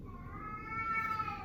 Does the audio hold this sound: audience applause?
no